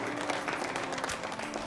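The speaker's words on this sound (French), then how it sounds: "Bande d'applaudissements," Studio audience applause at a Gabonese TV after-work show: a steady, dense wash of many hands clapping together, filling the whole short moment at an even, moderate level.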